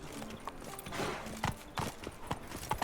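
Horse hooves clip-clop at a steady walking rhythm in The Witcher video game, fairly close and moderately loud, with a brief whinny-like tone and game ambience behind the hoofbeats.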